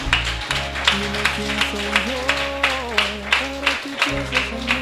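A church congregation claps along in steady rhythmic beats while sustained organ or keyboard tones and a voice carry over the top.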